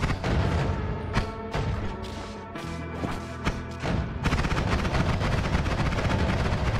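Explosion projectile spells blasting in the video game Noita, a dense barrage of loud booming impacts and crackling bursts that run continuously with hardly a pause.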